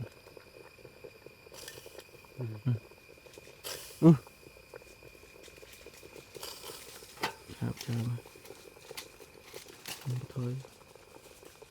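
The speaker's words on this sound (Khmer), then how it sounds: "ដំឡូងយើងកំពុងតែពុះហើយ" A pot of potatoes bubbles over a campfire in the forest, a quiet low gurgle with scattered pops and crackles, while people talk intermittently nearby.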